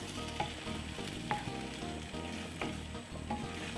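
Meatballs simmering in sauce in a pan give a steady, close sizzle and bubble with a few soft stirring clinks, continuous and fairly loud throughout.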